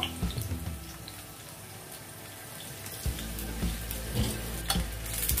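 Garlic fries in oil over low heat, a steady soft sizzle with scattered pops and occasional stirring scrapes, heard up close with no talking.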